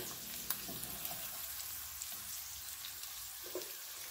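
Green beans and bacon sizzling steadily in a frying pan, a soft continuous crackle with a few brief clicks of utensils, heard fairly close and alone without talk.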